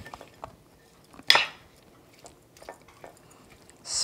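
A Burmese laphet salad of fermented tea leaves is tossed in a bowl, giving soft, sparse squishing and scraping with a single sharper clink partway through, close and fairly quiet.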